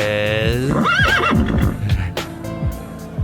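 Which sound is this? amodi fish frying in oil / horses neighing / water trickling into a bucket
horses neighing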